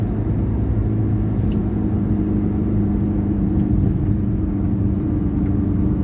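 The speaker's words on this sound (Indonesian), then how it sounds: "Nah, ini dam mobil truk ini, dam truk ini angkut buah sawit." A dump truck hauling oil palm fruit rumbles past on a road, a loud, steady low engine drone filling the whole stretch without any talk.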